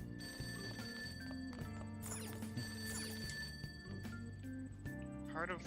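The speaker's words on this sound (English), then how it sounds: "There's a ringing from downstairs." An old-style telephone bell rings downstairs in the video game Persona 5, sounding as repeated trilling bursts over steady game background music, close and moderately loud.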